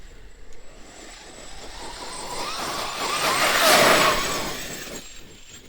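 A Traxxas X-Maxx RC truck rips along at speed, its electric motor whine rising steadily to a loud peak near the middle before easing off as it passes and moves away, with no talking.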